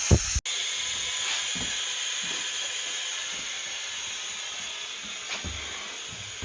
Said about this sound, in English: The air compressor's over there, running about 90 pounds of pressure.